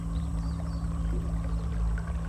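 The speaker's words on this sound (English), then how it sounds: "That water sound." Steady running water in the video game Riven, a continuous pouring, splashing wash over a low ambient hum, even and unbroken throughout.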